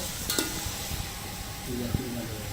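Chicken sizzles in a pot at moderate volume for pulao, with occasional soft stirring scrapes and clinks.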